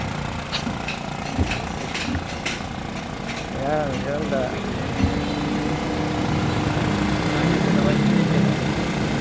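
A Honda Civic four-cylinder engine, right-hand drive, idles with a steady low hum while someone talks over it.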